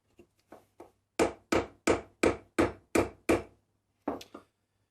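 A recycled HDPE pen held in a clamp gets a series of tapping knocks to seat it tight: three light taps, then six firm evenly spaced hard knocks, then a short final double tap, close and dry with no voices.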